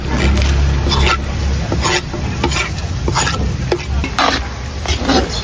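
Garlic and onion sizzle loudly in a hot pan while a utensil scrapes and stirs them in repeated strokes, close and continuous.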